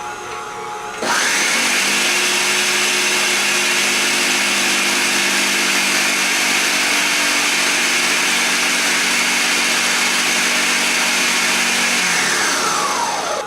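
A Ninja blender runs steadily on a tomato paste mixture for pasta dough, a loud, constant motor whir with a high whine that starts abruptly after a second of quiet and holds for about twelve seconds before beginning to wind down.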